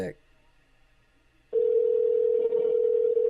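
A telephone dial tone comes on after a short click and near-silence, then holds as a steady, loud, unbroken hum through to the end.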